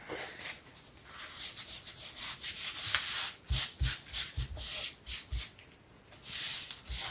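A hand rubs and presses glued paper firmly onto an art journal page, making a series of close, soft, dry swishing strokes in uneven bursts, with no talk.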